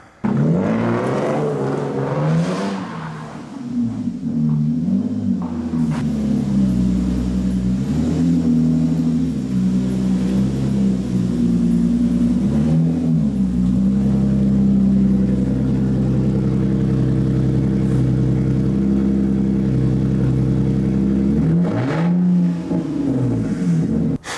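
A Lexus IS300 drift project car's engine idles and revs at low speed as it pulls in, its tone rising and falling in several gentle surges over a steady rumble, close and loud.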